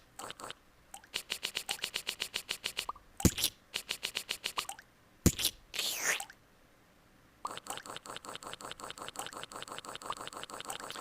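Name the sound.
acid drops dripping, sound effect from a video game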